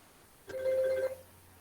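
A phone gives a single brief electronic ring tone lasting under a second, clear and fairly close against a quiet room during a lecture.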